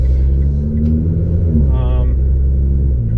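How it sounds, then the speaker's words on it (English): A car fitted with a Nismo exhaust and Fabworx Y pipe pulls out on the road, its engine rumbling loud and steady with a brief rise in revs, while a voice talks briefly over it. "So get it out on the road here for a little bit and get it opened up."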